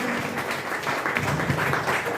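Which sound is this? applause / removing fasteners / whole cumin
applause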